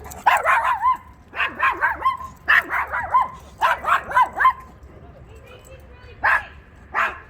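A small dog, smaller than a shoe, barks in quick bursts of two to four sharp yips, loud and close, with short pauses between groups and no talking.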